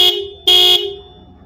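A short bright motorcycle horn toot sounds, then a second longer honk follows, close and loud over a faint idling rumble.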